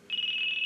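A phone ringtone sounds as a single steady high electronic tone, lasting just over half a second at moderate volume with faint background noise.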